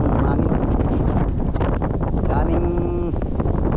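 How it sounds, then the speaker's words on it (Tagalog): Strong wind on a small boat at sea off mainland Marinduque, loud buffeting rumble against the microphone with water and engine noise underneath, and a voice speaking over it. "Malakas pa rin yung hangin."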